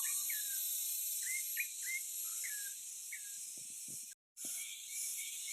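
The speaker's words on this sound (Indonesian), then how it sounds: "Suara-suara burungnya ini udah kedengaran terus, tapi belum ada yang kelihatan." Wild birds call from the trees, giving short repeated chirps that are fairly close, over a steady high insect drone with a brief dip near the end.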